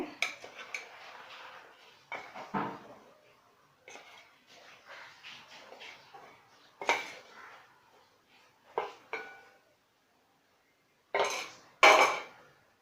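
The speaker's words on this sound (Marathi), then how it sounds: "आणि जे आपण फ्राय करून घेतलेले आहेत अंडी ती याच्यामध्ये सोडायची" Fried eggs being dropped into egg curry in a pan, heard as scattered clinks and scrapes of a spoon against metal cookware, close and fairly loud, with quiet gaps between bursts.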